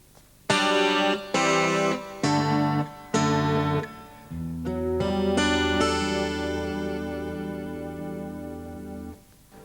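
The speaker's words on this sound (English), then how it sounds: "Let's add some chorus." An Ibanez guitar played through its acoustic pickup with a chorus effect, four short strummed chords, then a sustained shimmering chord that rings out and fades, with no voices.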